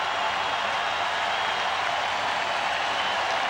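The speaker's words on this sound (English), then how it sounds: "Crowd trying to spur Wohlers on to the strikeout" A packed ballpark crowd roars steadily during Game 6 of the 1992 World Series, Blue Jays at Braves, urging the pitcher on with two strikes on the batter: a dense, continuous wash of cheering with no breaks.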